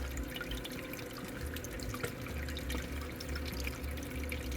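Seawater leaking at a boat's prop shaft stuffing box, a steady close trickle and patter of dripping water with no voices over it.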